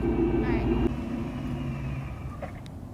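A supercharged Ford Mustang GT pulls away in first gear, a loud low engine roar with a brief rising whine, then easing into a steadier drone, with talk over part of it.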